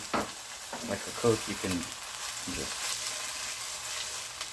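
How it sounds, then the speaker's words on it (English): Soup being stirred and mixed in a pot with a utensil over a hot burner, a steady sizzling wash with a few clinking scrapes early on, while a person speaks briefly. "just start mixing a little bit"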